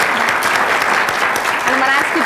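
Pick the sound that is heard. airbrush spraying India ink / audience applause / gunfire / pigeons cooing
audience applause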